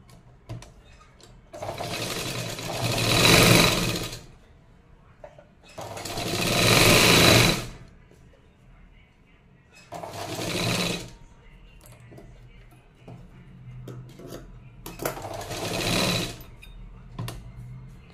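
A sewing machine stitches a katori blouse in four separate loud bursts of rapid running. Quieter pauses fall between them, with soft handling sounds.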